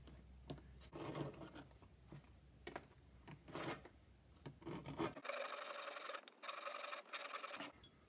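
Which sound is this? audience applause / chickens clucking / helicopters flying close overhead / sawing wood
sawing wood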